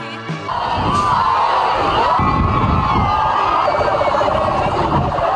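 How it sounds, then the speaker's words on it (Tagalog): A large crowd roars and shouts continuously, loud and dense, with a siren-like wail rising through the noise. "Habang maugong ang sigawan"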